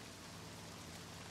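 Steady nighttime rain falls in a video game, a dense, even hiss of drops spread across the whole range, quiet and uninterrupted with no voices.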